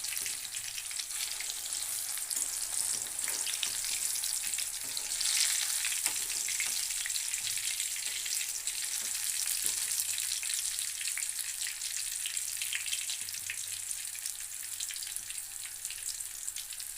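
Potatoes fry in hot oil in a home kitchen, a steady, close sizzle crackling continuously with occasional faint stirring clicks and no talking.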